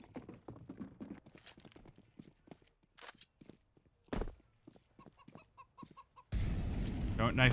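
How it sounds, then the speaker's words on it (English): Chickens cluck on the Inferno map in the Counter-Strike video game. The clucking is mixed with footstep clatter, scattered clicks and a sharp bang, and a loud burst of noise arrives near the end. "Don't knife the chicken."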